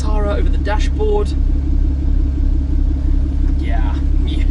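A supercar engine idles low at about 700 RPM inside a carbon-fibre, Alcantara-trimmed cabin, a steady pulsing rumble that runs throughout while a person talks over it.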